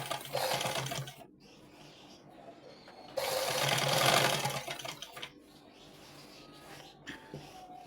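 A sewing machine stitching a flat collar runs in two loud whirring bursts with a short pause between them, close up, then quieter handling noise follows.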